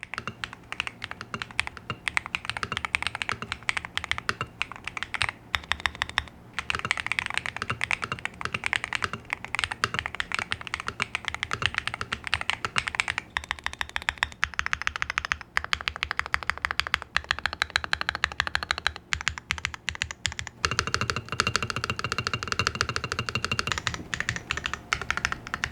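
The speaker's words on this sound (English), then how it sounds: "here's a quick sound test to give you a better idea of how this keyboard sounds" Steady, rapid typing on an ATK×QK Hex80 gaming keyboard with carbon fiber plates, dense clacky keystrokes continuing close up for the whole stretch, with a brief shift to heavier, deeper strokes near the end.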